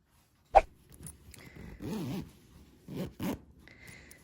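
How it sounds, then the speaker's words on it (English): Zipper being pulled closed on a crocheted pillow cover, several short quiet rasping zips separated by pauses, close up with no talking. "So I'm going to go ahead and do my zipper."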